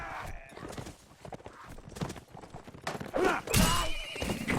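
Horse neighs and clip-clopping hooves in a multiplayer video game battle, with repeated whinnies over busy combat noise and a louder neigh near the end.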